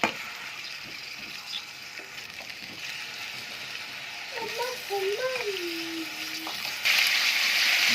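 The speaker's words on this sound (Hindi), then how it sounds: "इसको भूनेंगे हल्की आंच में" Washed, squeezed-dry meat fries slowly in ghee over a low flame, giving a continuous soft sizzle with occasional clicks, a brief tonal voice-like sound in the middle, and a louder hiss near the end.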